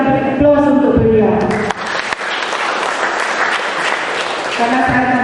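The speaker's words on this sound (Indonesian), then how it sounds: "untuk itu kita beri aplaus untuk beliau" An audience at a school committee workshop at SMAN 3 Pangkalpinang claps for the deputy mayor: a loud, dense burst of applause lasting a few seconds, with music before and after it.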